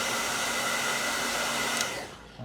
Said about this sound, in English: I'm going to make this dry a little faster with my blow dryer.